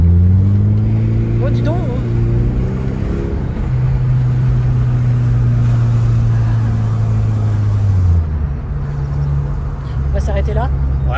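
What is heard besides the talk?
Peugeot 406 car engine running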